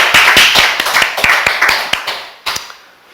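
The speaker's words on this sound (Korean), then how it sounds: "박수 한번 치겠습니다." A church congregation claps together during an Easter sermon, giving a loud, even run of close claps that slows and fades out toward the end.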